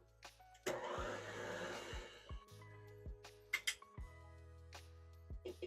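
An electric hand mixer beats cream cheese mixture in a bowl, a steady whir starting abruptly and then softening, with occasional clinks of the beaters against the bowl, close and fairly quiet.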